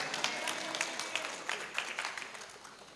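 An audience at an Indonesian civil servants' festival event claps in a steady patter of applause, moderately loud and continuous, with no speech over it.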